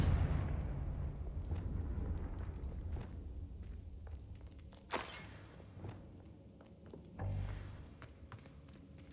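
Confringo fire spell in Hogwarts Legacy bursting in two sharp, bright explosive blasts a few seconds apart, rising over a quiet rumbling background with scattered taps and light footsteps.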